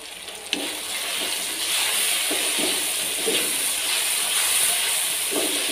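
Turmeric and cumin seeds roast in hot oil in a pan for an aloo baingan dish, giving a steady, close sizzling hiss with soft crackles throughout.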